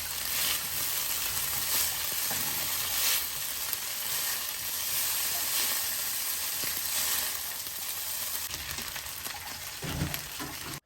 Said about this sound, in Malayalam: രണ്ട് ഫോർക്ക് കൊണ്ട് നൂഡിൽസ് നല്ലോണം മിക്സ് ചെയ്യാവുന്നതാണ് നമുക്ക്.